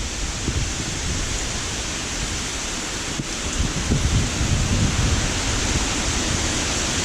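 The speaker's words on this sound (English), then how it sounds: "Hard rain." Hard rain pouring down during Hurricane Dorian in Hampstead, North Carolina, a dense, steady hiss of heavy downpour with low rumbling wind beneath, constant and close throughout.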